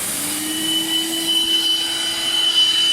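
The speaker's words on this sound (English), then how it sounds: "Turn on the pump and turn on the vacuum cleaner." A Zelmer Vodník multifunctional vacuum cleaner runs with its pump on for washing car seats, giving a steady whine with a bright high hiss and a thin tone held throughout.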